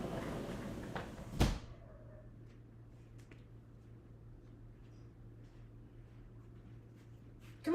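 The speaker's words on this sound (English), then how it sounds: "I'm gonna close the door." A door swings shut indoors with a single sharp thud, followed by a quiet room with a low steady hum and faint small sounds.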